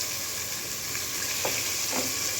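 Trotter (paya) pieces fry with salt in a pan, a steady close sizzling hiss with a couple of brief scraping stirs and no talk.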